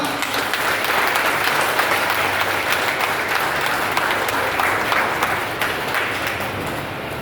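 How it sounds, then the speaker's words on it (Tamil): An audience at a car delivery event claps in loud, sustained applause, a dense, even patter that carries on without a break and eases slightly at the close. "உங்க எல்லோருக்குமே ஒரு பெரிய கைத்தட்டல் கொடுத்துடலாமா?"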